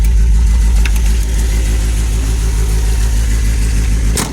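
A 1978 MG MGB engine holds a high idle: a loud, close, steady engine drone with a deep rumble and a sharp click near the end. No one talks.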